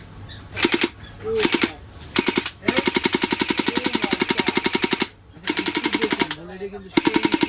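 A toy gun firing automatically in rapid bursts of fast, evenly spaced mechanical clicks, loud and close, broken by short pauses, with someone talking between and over the bursts.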